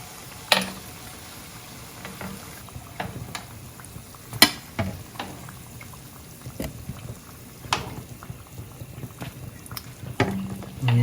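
Beignets fry in hot oil with a soft, bubbling sizzle. A spoon taps and clicks now and then as the pieces are flipped, and there is no talk.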